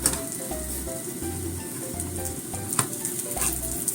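An onion pancake, Korean chijimi made without wheat flour, frying over medium heat in a covered pan, giving a steady close sizzle with a few brief crackles and pops throughout.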